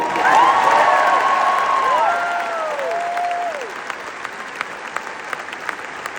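A large outdoor crowd at a University of Alabama graduation claps loudly and steadily, then the applause fades to scattered claps, while a few whistles rise and fall over it.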